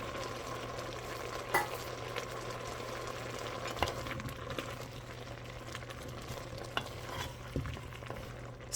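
Potatoes going into a stew pot for Irish stew, with soft stirring and a low steady simmer-like sizzle plus a few light clunks and scrapes, close and quiet throughout.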